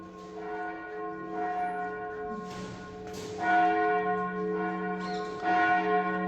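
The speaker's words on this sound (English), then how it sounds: "The bells that you are listening to, it's from the Protestant Church of the Redeemer" Church bells of the Protestant Church of the Redeemer ring out steadily with a rich, sustained tone, several strikes swelling over a lingering hum, fairly close and with no voices.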